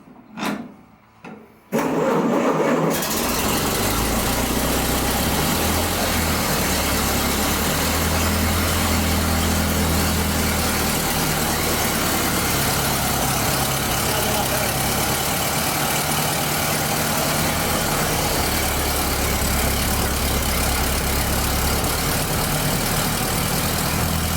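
A 1930 Ford Model A pickup engine, off the road since 1986, cranks briefly with a few sputters, then catches and settles into a steady, loud, close idle with a low rumbling throb.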